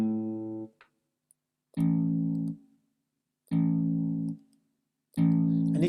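Electronic guitar with a touch sensor, sounding tones only as each press is released: four sustained, buzzy, effect-processed notes in a slow, evenly spaced sequence with silent gaps between them.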